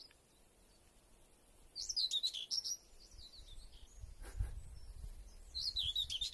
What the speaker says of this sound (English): It's a warbler, I think. It might actually be a blackcap.